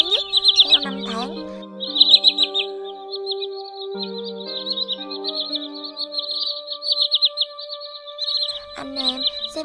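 Shorebird calls, common greenshank among other migratory birds: sharp, repeated high piping notes in rapid bursts over steady tonal whistles, fairly close and continuous, no talk.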